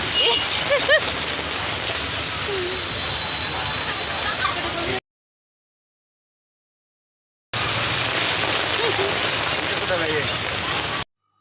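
Steady rain patters down outdoors on a street as people hurry for cover. The hiss holds loud and even, breaks off into silence for a few seconds, then resumes. Voices can be heard faintly beneath it.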